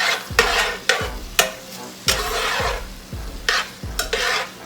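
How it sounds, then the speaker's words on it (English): Meat sizzles in a pan while a utensil stirs and scrapes it in repeated strokes, each push bringing a bright burst of frying hiss over a steady sizzle. "Okay, so my meat has been cooking a little bit."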